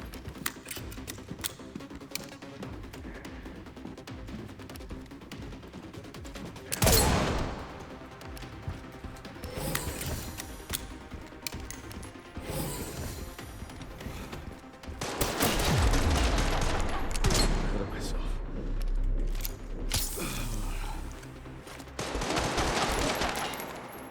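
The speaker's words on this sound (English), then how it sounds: "They're shooting at each other. Well, that one's shooting at me." Bursts of rapid automatic gunfire from enemies shooting in the video game Resident Evil Requiem, with clusters of loud volleys and quieter ticking stretches between them, no speech.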